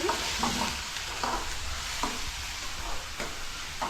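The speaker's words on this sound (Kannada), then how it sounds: "ನೋಡ್ರಿ ಚೆನ್ನಾಗಿ ಫ್ರೈ ಆಗತ್ತೈತಿ" Ingredients fry in a pan for a home tiffin, giving a faint continuous sizzle. Occasional light scrapes and taps of a stirring spoon sound close by, with no one speaking.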